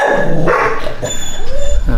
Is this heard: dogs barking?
yes